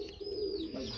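Pigeons cooing at a breeder's loft with Gannadino and other fancy pigeons for sale, a steady low murmuring coo lasting about a second with a faint high tone above it and no talking.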